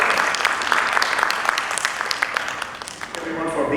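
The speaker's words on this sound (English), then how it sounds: "big round of applause for you." An audience at a talent showcase event gives a sustained round of applause, many hands clapping steadily and loudly close by, with a voice briefly heard over it near the end.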